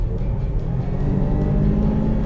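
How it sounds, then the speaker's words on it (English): A Land Rover Discovery with a supercharged 3-litre V6 petrol engine revs, giving a steady, loud low-pitched drone that holds for about two seconds with no talk over it. "it makes a cool sound with that supercharger"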